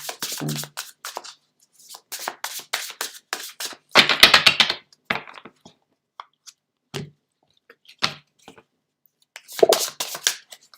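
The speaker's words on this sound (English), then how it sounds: "I'll shuffle." Tarot cards being shuffled in quick papery bursts and riffles, close up, with short pauses between rounds; no talking.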